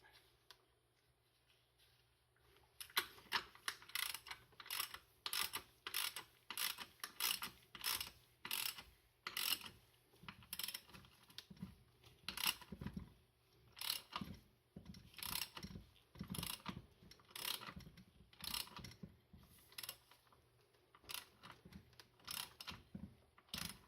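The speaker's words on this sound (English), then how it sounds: "you want to go ahead and tighten up the center nut" Ratchet wrench tightening the center nut on a Nissan 300ZX Z31 strut assembly during a rebuild, heard as close, crisp bursts of rapid clicking repeated in short strokes with brief pauses between.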